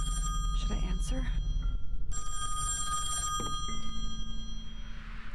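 A telephone rings inside a mansion in the horror video game Song of Horror, with repeated ringing bursts and a steady low hum underneath, plus a faint voice early on.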